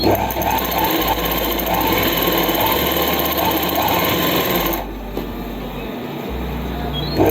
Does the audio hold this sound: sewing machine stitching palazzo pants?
yes